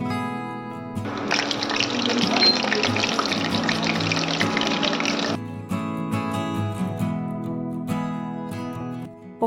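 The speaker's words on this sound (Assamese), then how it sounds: "তেলখিনি মিডিয়াম আঁচত ৰাখি পকোৰাখিনি ভাজি ল'ম।" Ridge gourd and bottle gourd flower pakoras fry in soybean oil over medium heat, giving a steady crackling hiss for several seconds before it drops away under background tones.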